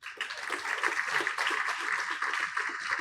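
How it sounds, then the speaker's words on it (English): An audience at an award ceremony honouring a parliamentarian breaks into dense, sustained applause, clapping evenly and moderately loud from start to finish. "A huge round of applause to Senator, the Most Honorable Henrietta Elizabeth Thompson."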